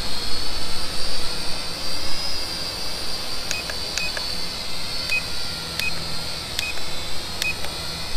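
A Holy Stone HS110D drone flies outdoors in wind, its high buzzing propeller whine steady and close under gusty wind noise, with a series of short electronic beeps partway through.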